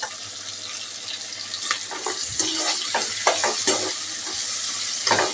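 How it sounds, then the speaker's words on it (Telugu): Chopped green chillies fry with ginger garlic paste in a pan for veg biryani, a loud close sizzle broken by stirring scrapes and clinks of a spoon, with no talking. "ఇప్పుడు మనం కట్ చేసుకున్న పచ్చిమిర్చి వేసేస్తున్నాము."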